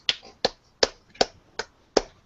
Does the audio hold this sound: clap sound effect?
yes